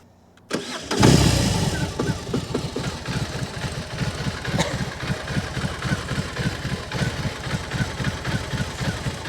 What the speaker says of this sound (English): I'm going to show you that right now as I start the bike up